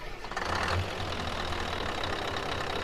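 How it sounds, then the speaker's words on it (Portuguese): A Scania truck engine in a farming video game turns over and settles into a steady low idle, a continuous mid-loud rumble with no talk. "Vamos ligar o motor."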